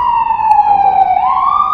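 A loud ambulance siren wails close by, its single tone sliding slowly down then rising again, steady and dominant.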